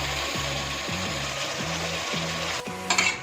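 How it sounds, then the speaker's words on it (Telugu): Washed country chicken pieces fry in a pan for a Rayalaseema curry, a continuous sizzle with repeated rhythmic scraping strokes of a stirring utensil, near and steady throughout. "కడిగిన నాటుకోడి కూడా వేసుకొని వేయించుకోవాలి."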